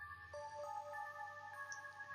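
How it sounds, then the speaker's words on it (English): A phone ringtone plays on a home telephone as a steady, faint electronic tone that holds evenly throughout. "The ringtone feels ominous."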